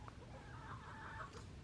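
Chickens cluck softly in a farmyard during the first morning chores, a few faint calls over a steady background hum.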